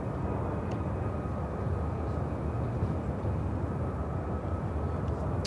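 Japan Airlines Boeing 777-300ER taxiing toward the runway at Chicago O'Hare: a steady broad jet engine roar, constant and fairly loud, with no clear change throughout.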